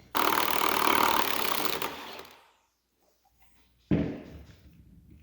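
A Milwaukee power tool with a 1.5-inch socket rattles loud and close for about two seconds while breaking loose a transfer case nut on a Ford NP273. It stops, and after a short silence a second burst follows.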